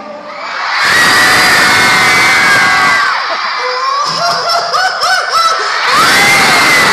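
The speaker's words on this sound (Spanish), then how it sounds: "Can I give you my best grito?" A long, loud Mexican grito shouted at a rock concert in Mexico City, a held, wavering yell rising over a roaring crowd that cheers and shouts along throughout.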